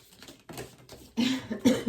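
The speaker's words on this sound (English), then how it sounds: "I have a little tickle in my throat and a teeny tiny little cough" A few soft, small coughs, quiet and close, coming in short bursts near the end after a near-silent stretch.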